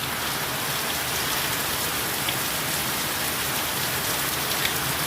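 Heavy rain pouring down outdoors, a dense, unbroken roar of drops hitting surfaces, loud and steady throughout, with no voices or other sounds standing out.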